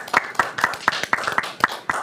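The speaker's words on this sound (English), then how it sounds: "All right, round of applause." Clapping at a county government special meeting: a few distinct hand claps in a steady, sparse rhythm, close and fairly faint, the small round of applause of only a handful of people.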